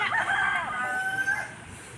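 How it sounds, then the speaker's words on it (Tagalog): Roosters and chickens in a small farm barn, a crowing call with harmonic sweeps rising and falling over about two seconds, close and fairly loud above a faint background hum. "Chicken."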